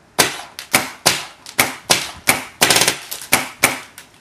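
Ego 11 and Cyborg RX paintball markers fire about a dozen sharp, close pops in an uneven rhythm, with a quick burst of rapid shots in the middle.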